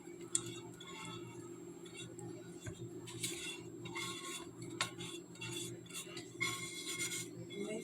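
A utensil scrapes browned bits from the bottom of a cookie dough pan, giving irregular close rasping and clinking strokes over a low steady background hum.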